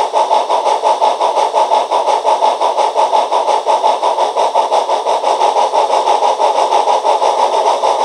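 A PROTO 2000 0-8-0 model locomotive fitted with a sound decoder runs steadily, its engine sound a loud, even, rhythmic chuffing drone that holds throughout with no talk.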